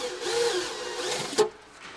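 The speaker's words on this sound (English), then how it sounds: "I'm going to run through with a pilot drill first, through all the holes" Pilot drill boring through a row of holes while fitting a diesel heater in a Sprinter van, a steady whirring grind that runs continuously, ending in a brief sharp catch as the bit breaks through.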